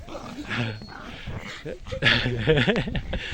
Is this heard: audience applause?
no